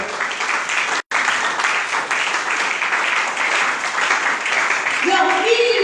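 A church congregation applauds in a dense, continuous wash of clapping that barely pauses, with a faint musical tone emerging near the end.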